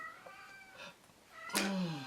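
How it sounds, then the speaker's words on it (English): A house cat meows loudly and close by, one long drawn-out cry near the end following softer, fainter mews earlier on, with no talking over it. "we can hear the cat"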